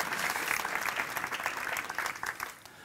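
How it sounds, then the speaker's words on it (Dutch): An audience claps in steady applause at a Limburg Festival gathering, a dense wash of many hands that holds moderately loud and tapers slightly toward the end. "Ook dat is een applaus"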